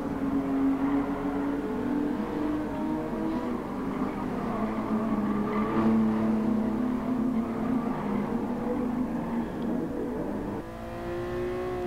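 Race car lapping the Nürburgring Nordschleife, a continuous loud engine drone heard close from onboard, holding a steady pitch with gentle rises and dips and a brief shift near the end, with no talking.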